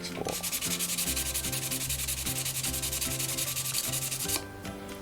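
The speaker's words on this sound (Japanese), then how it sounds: "こんな風に削っていきます。" Sandpaper on a wooden block is rubbed back and forth over a plastic RC car body for a custom paint job, giving steady rhythmic scraping strokes, close and continuous, with no talking.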